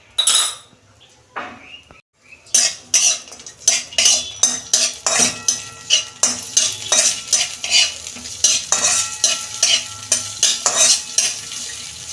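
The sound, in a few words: frying cashews and raisins in ghee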